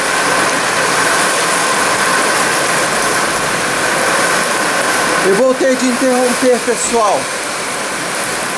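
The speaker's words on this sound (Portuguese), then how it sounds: "A chuva está muito forte." Heavy rain in Conselheiro Lafaiete, Minas Gerais, Brazil, pours as a loud, constant broadband roar, joined midway by a brief rhythmic mechanical whir, with a short spoken word.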